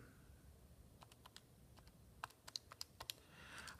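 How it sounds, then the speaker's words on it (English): Numbers are keyed into a calculator as a string of quiet, irregular button clicks: a few sparse taps, then a quicker cluster of sharper presses near the end, with no voices. "So when I type that into my calculator,"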